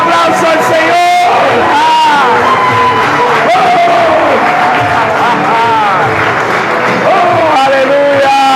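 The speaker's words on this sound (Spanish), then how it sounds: "Dale un aplauso al Señor." Church congregation in a worship service applauding and cheering to the Lord, a broad wash of clapping and shouts beneath a loud, sustained voice calling out over the crowd.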